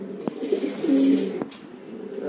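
A Black Sirazi fancy pigeon coos in a pigeon trader's loft, with low, throaty rolling coos and a couple of sharp knocks, heard close by with no talk.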